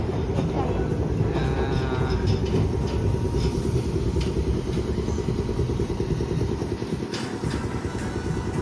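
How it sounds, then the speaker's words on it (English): A Little Rock Blue Line streetcar rumbles steadily with a low engine drone and faint wheel hum, continuous and close, heard from a passenger's position while people talk. "Okay, हाम्रो tram आइपुगेको छ।"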